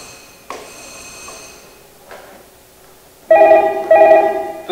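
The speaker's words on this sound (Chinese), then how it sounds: "警铃声响起" An alarm at the Zhuwei volunteer fire station in Taoyuan sounds for a residential fire call: a few short electronic ringing tones, then louder two-part bursts of bright ringing near the end, in a quiet room.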